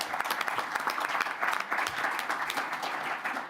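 An audience at the ASOIF General Assembly claps steadily in a dense, even burst of applause that fills the room for a few seconds without a break.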